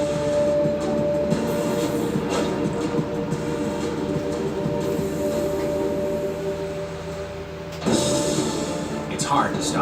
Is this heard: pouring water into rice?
no